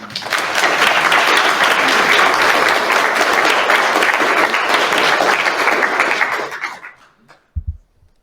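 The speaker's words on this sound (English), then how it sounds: "We have a round of applause for that opening" An audience applauds after an opening speech at a society event, a dense, steady round of clapping that holds loud for about six seconds, then tapers off and stops, leaving a couple of faint thumps at the end.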